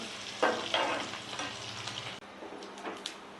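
Tempering for a cucumber and karonda pickle fries in hot oil with a close, continuous hissing sizzle and occasional sharper crackles, no voices.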